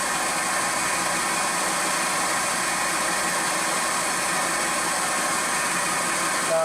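A milling machine runs a 10mm coated carbide end mill at 1200 RPM on a light conventional-milling pass, giving a steady, loud, even mechanical drone throughout with no talking.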